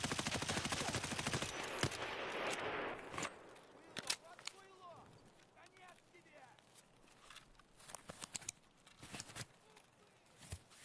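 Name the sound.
gunfire in a video game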